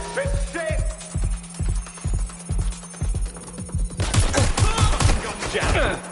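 Rapid bursts of gunfire from Watch Dogs: Legion ring out in a steady rhythm of sharp shots, growing denser and louder toward the end, with a low hum underneath.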